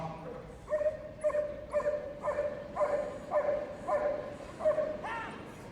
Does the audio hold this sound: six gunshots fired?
no